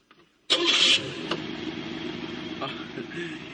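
After refuelling, a car engine cranks and catches with a sudden loud burst, then settles into a steady, even idle nearby.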